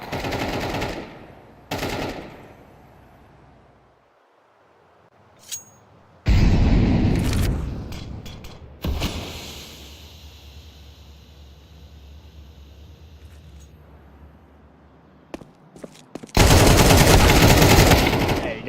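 Counter-Strike match with loud bursts of rapid automatic gunfire, including a long sustained burst and several shorter volleys, separated by quieter stretches of game ambience and a few single shots.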